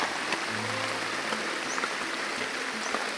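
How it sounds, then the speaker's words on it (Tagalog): Rain pouring down over open countryside fields, a continuous broadband patter that stays steady and fairly close throughout. "Nabutan tayo ng ulan guys."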